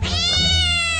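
A cat meows loudly and close up, one sustained drawn-out cry with a strained, wailing tone.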